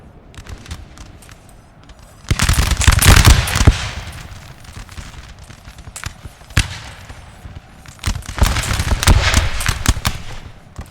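Massed musket volleys and crackling gunfire from a Napoleonic battle in Napoleon Total War, coming in dense bursts that swell and fade across the field, with heavier clusters of shots near the start and end.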